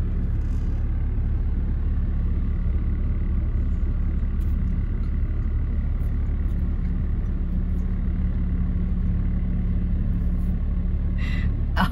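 A car idles on a street, its engine a steady, close low rumble that holds without a break, with a few faint clicks near the end.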